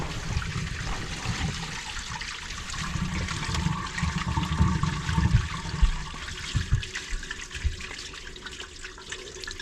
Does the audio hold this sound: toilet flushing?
yes